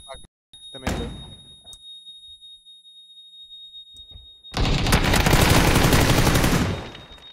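PUBG gunfire: a single sharp shot near the start, then faint clicks, then a loud, rapid automatic burst lasting nearly three seconds before cutting off, with a thin steady high tone running underneath.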